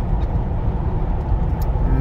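A Mercedes G500 4x4² rolls along a California coastal road, its steady engine and road rumble loud and close from inside the cabin with no break.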